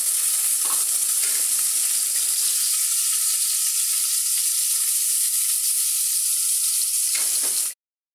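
Onion and garlic frying in a pot on a stovetop, a steady loud sizzle filling the whole stretch with a faint stirring scrape, ending abruptly, no talk.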